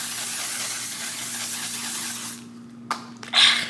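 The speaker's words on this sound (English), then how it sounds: "And then finally, I use my one size setting spray." A steady, breathy hiss of fine mist sprays continuously for a couple of seconds, then cuts off into quieter rustling.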